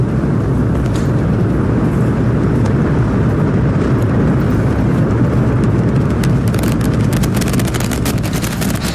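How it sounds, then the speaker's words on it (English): A SpaceX Starship and Super Heavy rocket launch roars continuously, a loud, broad, crackling rumble that stays saturated for the whole stretch, with sharper crackles building toward the end and no voices. "We have liftoff. Go Super Heavy. Go Starship."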